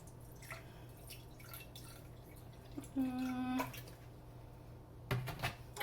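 Vinegar poured into a homemade ketchup mixture makes a brief liquid pour lasting about half a second midway, with a faint splash near the end, over a steady low hum.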